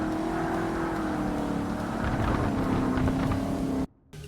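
A Shelby Cobra's engine in Forza Motorsport (Xbox, 2005) holds a steady high-pitched drone against the rev limiter, then cuts out sharply near the end before resuming.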